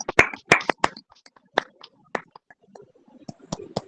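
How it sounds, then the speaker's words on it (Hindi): A small prayer-meeting group claps, with sharp, uneven handclaps close to the microphone, a burst of several quick claps at first, then scattered single claps with short gaps between them. "आइए प्रभु की महिमा के लिए सब एक ऊंची ताली देते हैं।"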